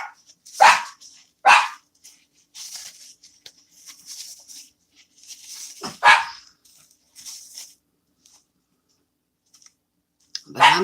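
Dogs bark indoors in a few sharp, loud single barks spread across the stretch, with light clicking and tapping between them.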